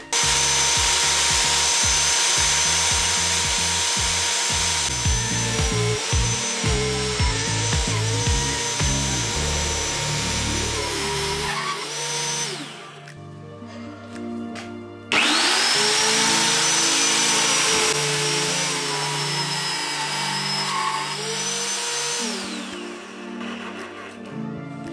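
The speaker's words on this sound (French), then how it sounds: "c'est parti pour un petit perçage en série" A VEVOR magnetic drill bores a series of holes for a ladder build. The loud motor whine shifts pitch as the bit bites into the metal, cuts off near the middle, then restarts for a second hole.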